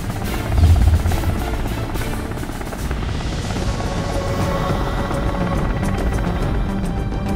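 An Indian Air Force Mi-17 V5 helicopter, its rotor and turbine roar loud and close, with a strong thumping swell early on before settling into a steady, continuous drone.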